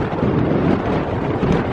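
Gusty wind buffets the microphone in a low, rumbling roar, steady and fairly loud with no voices.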